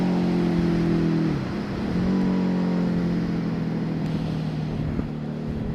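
A 2011 Harley-Davidson Night Rod Special motorcycle engine drones steadily while riding, its pitch dipping briefly as the rider shifts and then climbing again, heard alone without talk.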